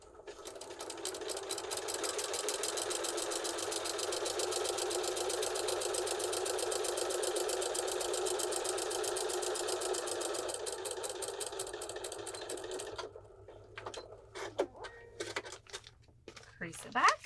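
A sewing machine stitches a quilt block seam in one steady, fast, even run lasting about thirteen seconds, then stops, leaving quiet handling clicks and rustles.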